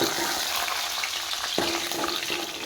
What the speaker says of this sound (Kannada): ಸಾಂಬಾರಿಗೆ ಹಾಕಲಿಕ್ಕೆ ಒಗ್ಗರಣೆ,